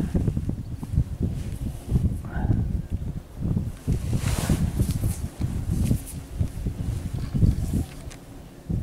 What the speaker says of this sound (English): I'll try to block the wind here.